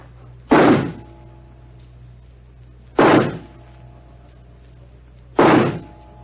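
Three revolver shots are fired one by one at a target in a radio drama, each a sharp, loud report spaced a couple of seconds apart, with quiet between them.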